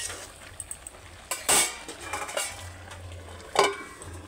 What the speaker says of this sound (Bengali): দিয়ে নাড়াচাড়া করে আরও কিছুক্ষণ হতে দেবো।